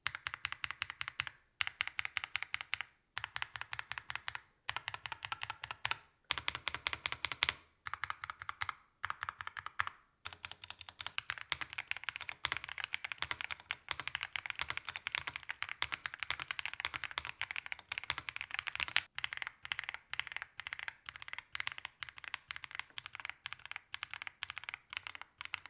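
Steady typing on a Yunzii AL71 mechanical keyboard, dense runs of crisp key clacks with brief pauses between bursts, close up and quiet, with no speech.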